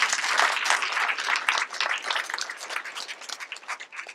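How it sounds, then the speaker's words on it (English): Sustained applause from an audience at a school science fair, many hands clapping densely with no voices, gradually easing slightly toward the end. "Give them a big round of applause."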